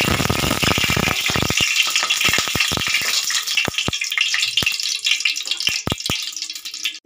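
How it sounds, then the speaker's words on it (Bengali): Pieces of sea fish slipped one at a time into hot oil give a loud, dense sizzle that thins into scattered sharp crackles and pops, close by and without talk. "তেল গরম হয়ে গেছে বন্ধুরা, আমি এরকমই একটা একটা করে ভাজবো"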